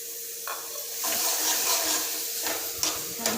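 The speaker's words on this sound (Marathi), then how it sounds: "छानपैकी हलवून घ्यायचं, असं मिक्स करायचं सगळीकडे." Cooked chickpeas being stirred into masala in a pan, a wet sizzling hiss with scraping and a couple of sharp utensil knocks, close by and without voices.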